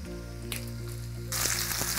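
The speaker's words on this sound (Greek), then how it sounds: "το υπόλοιπο ελαιόλαδο μέσα στο τηγάνι μου. Και πάμε να ρίξουμε τα κρεμμύδια." Chopped onions with a pinch of salt sizzle in olive oil in a frying pan, a close, continuous crackling hiss that grows louder and brighter partway through.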